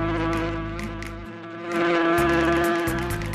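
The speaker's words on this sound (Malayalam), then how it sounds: "അപ്പോൾ രാജാവിന്റെ തലയ്ക്ക് ചുറ്റും ഒരു വണ്ട് പറന്ന് കളിച്ചുകൊണ്ടേയിരുന്നു." A beetle buzzes around a king's head in an animated moral story, a loud, close, droning insect hum that wavers in pitch and intensity as it circles.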